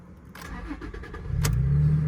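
A Toyota Tacoma pickup engine cranks and catches in neutral without the clutch pressed, settling into a steady low idle rumble after a couple of seconds of starter noise.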